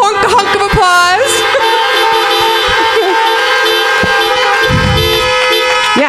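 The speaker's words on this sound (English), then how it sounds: "Let's give them a big honk of applause." Car horns honk continuously and loudly as drive-in applause outside a church Sunday worship service, several overlapping toots and sustained blasts layered together, with a brief voice near the end.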